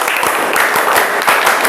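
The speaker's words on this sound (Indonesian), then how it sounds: "Tepuk pramuka." A classroom of students performing the Indonesian scout clap (tepuk pramuka), a loud, dense burst of many hands clapping together in quick rhythmic patterns, with brief accented pulses running through the whole stretch.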